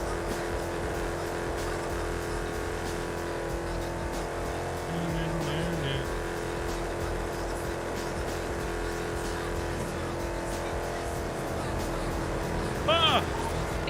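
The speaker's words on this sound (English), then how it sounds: "this car's so loud when you fucking limit it" A loud muscle car engine in GTA V roleplay, stuck in second gear and held near its rev limit, drones steadily and close up through the whole stretch, with a brief higher whine near the end.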